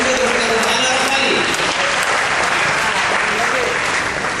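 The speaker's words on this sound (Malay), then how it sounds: "dan juga tepukan untuk Ana Rafali." Sustained audience clapping for speakers closing a student dakwah talk session, a dense, even wash of applause throughout, with faint voices mixed underneath.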